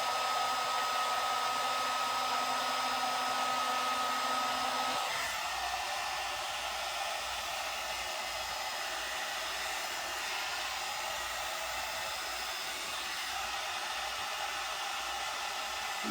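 A One Step hot air brush drying and straightening hair blows with a loud, steady whooshing roar and a faint tonal whine, dropping to a lower setting partway through, close and continuous with no talk.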